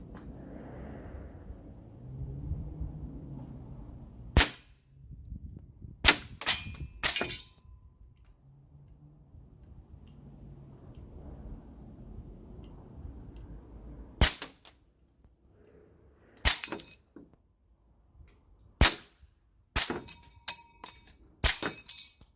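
An APFG VFC Rattler gas blowback airsoft rifle, unsuppressed, fires a string of sharp, loud, close cracks, some singly and some in quick pairs and triplets, separated by pauses of quiet background.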